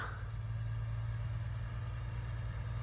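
A Russian 6x6 truck's engine idles, a steady low, throbbing rumble with a faint high whine, continuous and fairly close, no voices.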